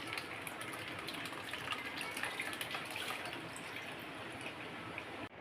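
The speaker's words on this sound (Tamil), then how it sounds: "இப்போது அரைச்சதை வடிகட்டிக்கணும்." Ground mint mixture for pani puri water is strained, giving a faint, continuous trickle and drip of liquid passing through a strainer, steady throughout with no talking.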